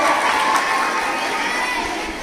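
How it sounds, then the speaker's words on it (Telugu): A school audience at an Ambedkar Jayanti program claps and cheers in welcome, a loud continuous wash of clapping mixed with children's shouts. "ఒక్కసారి అందరూ చప్పట్లతో స్వాగతం పలకాలి"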